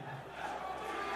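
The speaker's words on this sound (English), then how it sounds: "We get some DRX chants from the crowd." An arena crowd at the Worlds 2022 League of Legends esports event chants for DRX, a rhythmic mass of voices swelling under the hall's ambience, moderately distant.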